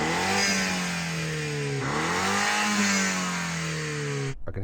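BMW M135i hot hatch engine revving hard outdoors on a windy drag strip, a loud sustained rev that rises, dips briefly, climbs again and then cuts off abruptly near the end.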